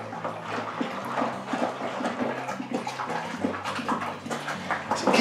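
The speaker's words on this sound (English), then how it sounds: "So keep going till it's all stirred in" A beer kit's malt extract is stirred into water in a plastic fermenting bucket, making close sloshing swirls and splashes in an uneven rhythm, with a low hum running underneath.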